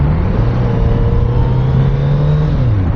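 Kawasaki Z900 RS Cafe retro motorcycle engine holds a steady, loud idle-to-rev drone for about three seconds, with a low droning tone that dips slightly near the end, heard alone without talk.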